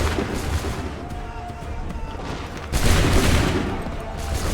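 Massed musket volley in Assassin's Creed 3, a dense crackling burst of many guns firing together that swells sharply partway through and rolls on loud and close, with shouted commands mixed in.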